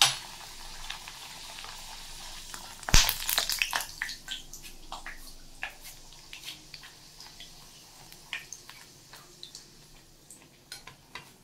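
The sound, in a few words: beetroot pink luchi frying in oil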